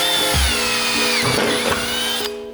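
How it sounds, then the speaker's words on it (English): A power drill with a 3/16 bit bores holes for a Tacoma dash mount, giving a loud, close, steady whine that starts with a brief bump and runs nearly continuously, then cuts off near the end. "Now we are ready to drill the holes on this."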